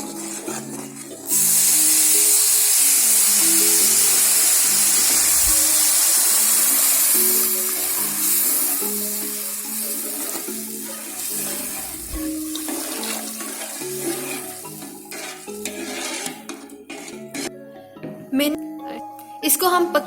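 Water poured into dark brown roasting halwa in a pan sets off a loud, sustained sizzle and hiss that begins abruptly and continues for several seconds, then bubbles and crackles unevenly as it settles.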